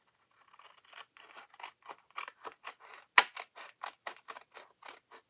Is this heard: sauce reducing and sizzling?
no